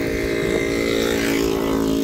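A loud motorcycle with a racing exhaust drones steadily at close range, its engine note holding a constant, raspy hum throughout.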